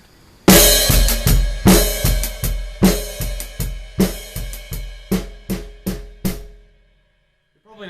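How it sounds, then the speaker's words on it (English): A drum kit plays a fill with the bass drum on every eighth note while the hands move between snare and hi-hats in a grouping phrased in three, loud and close, in fast repeated strokes before stopping to silence. "It's a fill using the bass drum playing on all the 8th notes"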